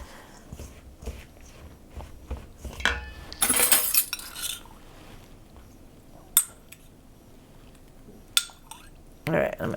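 Chickpea flour is worked into cracker dough with utensils that clink and scrape against a bowl in quiet, irregular bursts, punctuated by a few sharper knocks.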